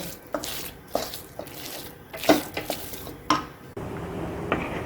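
Paruppu usili being stirred in a pan over low flame, a spatula scraping and knocking against the metal in irregular strokes, close and clear, with a faint sizzle beneath and no voices.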